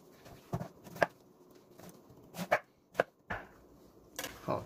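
Sharp knife chops through a pineapple being cut into a butterfly shape, a handful of crisp, separate strokes landing on a board at uneven intervals, close and clear with quiet gaps between.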